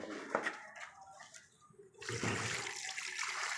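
Water gushes into a tub holding a shirt and detergent powder, a sudden rushing, splashing flow that starts midway and keeps pouring steadily after quieter handling sounds.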